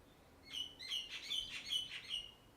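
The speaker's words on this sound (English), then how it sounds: "Those birds are loud," Birds chirp loudly in rapid repeated bursts of high tweets, clear and fairly close, with no voices present; the setting is a rugby match between France and Wales.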